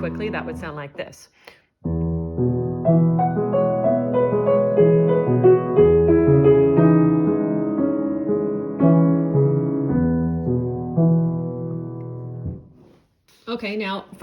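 Solo piano plays a quick passage with one hand in steady triplets against duplets in the other, a 3-against-2 polyrhythm, sustained and fairly loud for about eleven seconds, with a voice talking briefly at the start and end.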